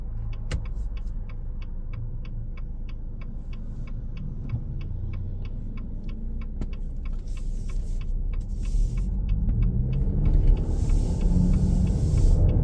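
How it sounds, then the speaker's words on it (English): A fire truck passing by, its deep engine rumble swelling louder toward the end over a steady, fast ticking that runs throughout. "I'm gonna wait for this fire truck to go by"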